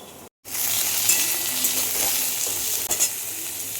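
Pointed gourd frying and being stirred in a pan, a dense close sizzle that starts after a brief silent gap and runs steadily, with a soft scrape or clink near the end and no speech.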